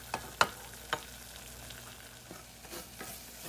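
A flour roux cooks in a pan while being stirred, with a low sizzle and a few sharp scraping clicks of the spoon early on, then quieter scrapes; close and fairly faint, no talking.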